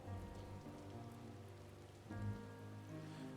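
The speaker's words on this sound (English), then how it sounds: "Oh god, it's raining now." Rain falling in the online game Final Fantasy XIV, a faint, steady patter heard at low volume alongside soft tonal game sounds, with no talk.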